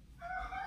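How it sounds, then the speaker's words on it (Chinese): A rooster crows once in a short, faint burst from outside a home on a hot summer day, heard alone without talk. "这么叫唤是公鸡？"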